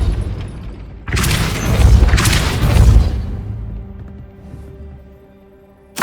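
Impact of the Depulso spell in Hogwarts Legacy: a loud, deep booming blast with a rumbling swoosh that swells and then slowly fades, followed by quiet low hum and a sharp thud at the very end.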